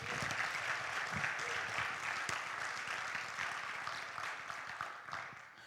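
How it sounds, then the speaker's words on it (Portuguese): A church congregation applauds during a Portuguese-language service, dense steady clapping from many hands filling the room for several seconds before easing slightly toward the end. "Seria pedir muito dar uma salva de palmas para Jesus?"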